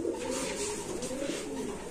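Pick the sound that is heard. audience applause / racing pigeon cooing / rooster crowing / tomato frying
racing pigeon cooing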